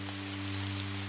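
Steady rain white noise, a dense even hiss of falling rain with a faint low hum beneath, continuous and unchanging.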